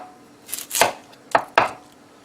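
A kitchen knife chops the ends off an onion in four crisp, close strikes in two quick pairs on a board, with no talking.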